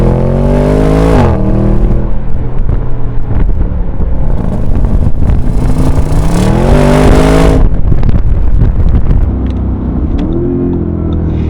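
A 2024 Audi RSQ8 engine revs up and down repeatedly through gear changes, with rumbling exhaust close by and a steady drone underneath.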